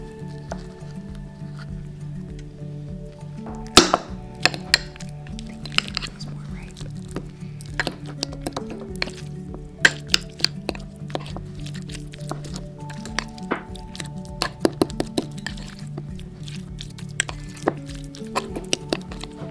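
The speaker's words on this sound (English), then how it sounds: "we're gonna take a small, I wish it was more ripe, avocado, and we are going to mix it into a tablespoon and a half of pesto." A spoon mashes and mixes a small, underripe avocado into pesto in a bowl, producing soft squishing and repeated light clinks and taps against the bowl over a low steady background.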